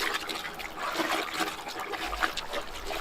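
Water sloshes and trickles as buckskin clothing is hand washed with a little soap in a basin, a steady close wet swishing with small splashes and no talk.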